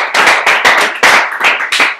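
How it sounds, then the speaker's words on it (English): An audience at a fitness club wellness workshop claps in a short burst of sharp, close, rhythmic hand claps, about eight loud strikes over two seconds with no voices. "So clap it up for Pat."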